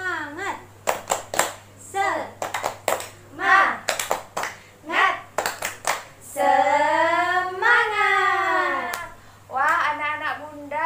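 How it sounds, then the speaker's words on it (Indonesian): Young children in a classroom perform a rhythmic clapping chant, their sharp hand claps in quick bursts mixed with chanted voices, followed by a longer sung stretch. "Tepuk semangat."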